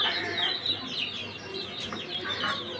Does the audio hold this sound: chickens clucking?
yes